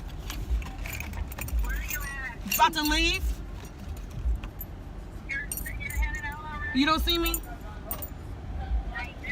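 Two keys jingle and clink in bursts near the microphone on a college dorm move-in day, while people talk nearby and a car sits in the background.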